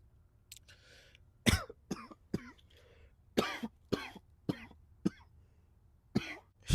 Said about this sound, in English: I had to take a little cough break